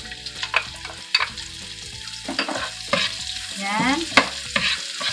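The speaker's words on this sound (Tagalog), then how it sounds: "Halo-haloin lang natin hanggang mag-brown siya ng konti. Saka natin ilagay ang ating onion." Onions sizzle in hot oil in a pan while being stirred for pancit bihon, with steady frying hiss and repeated scraping strokes of the spoon close by.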